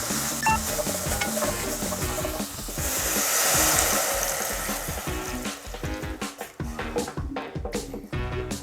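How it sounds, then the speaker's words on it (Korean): Ingredients for homemade sundae gukbap stir-frying with a teaspoon of soy sauce, a dense continuous sizzle with scraping and stirring noises that grow choppier toward the end, no voices. "그리고 간장을 1티스푼 넣어주시고 같이 좀 풍미가 살아나게 볶아줍니다."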